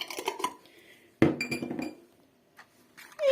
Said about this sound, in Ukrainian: І розмішую гарненько цю заправочку.